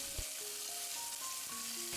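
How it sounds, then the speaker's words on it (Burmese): Chicken pieces frying in hot oil with ginger and garlic give a steady, close hiss and sizzle, with a stir near the start and faint tonal beeps over it. "ခုနအရသာနေပြီးနှက်ထားတဲ့ကြက်သားတွေကိုထည့်ပြီးတော့ကြော်ပေးပါမယ်"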